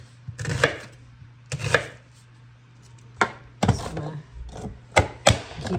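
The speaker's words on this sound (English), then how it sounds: "Keep chopping until all my onions are done." A hand chopper thumps down repeatedly on onions, irregular sharp chops close by, some in quick pairs, over a low background hum.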